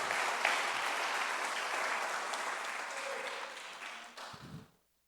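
A church congregation applauds to honour God during a Portuguese-language worship service, steady dense clapping filling the room for several seconds before thinning and stopping abruptly near the end.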